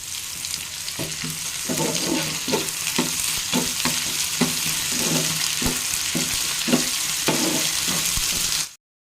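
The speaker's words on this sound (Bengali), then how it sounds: "চলো আবার মশলাটাকে একটু ভালো করে ভেজে নিই" Spice paste with ginger-garlic paste and chillies frying in a pan, a steady loud sizzle broken by regular scraping strokes of a spatula stirring it, close and with no voices.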